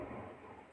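Thunder rolls during a storm as a loud, continuous low rumble over steady rain noise, brief and unbroken.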